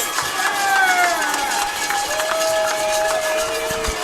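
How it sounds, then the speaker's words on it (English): A stadium crowd at a Bulldogs football game roars and cheers steadily and loudly in a dense wash of voices, with a few whistles standing out over the din. "I want you to hear the crowd getting into it."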